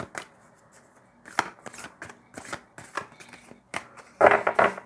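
Large, slippery cards are shuffled by hand in a series of quick, close riffling bursts separated by short pauses, ending in a louder flurry, with no talking.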